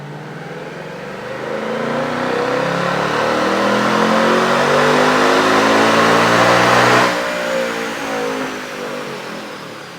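A 2024 Mustang GT with its 5.0L V8 revs hard on a dyno, rising steadily in a loud, sustained pull for about seven seconds before the throttle drops and the engine winds down.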